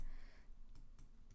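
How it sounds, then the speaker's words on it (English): Keys clatter on a computer keyboard in a short, faint burst of a few taps, with no voices. "we'll just type it out"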